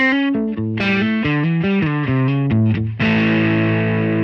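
Electric guitar played through a ToneX tone model with compression, a distorted melodic run of separate picked notes ending on a sustained ringing chord, loud and alone.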